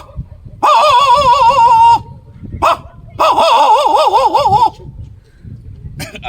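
A human voice imitates a big dog with two long, wavering howl-like bark calls and brief yips between them, loud and close, with short gaps of quiet.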